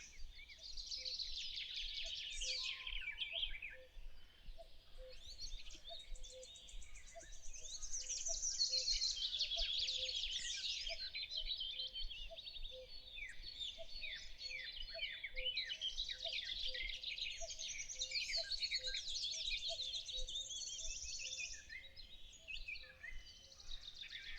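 Gentle trilling and chirping of birds at morning, a steady chorus of overlapping calls and warbles with a faint insect-like chirp pulsing underneath throughout.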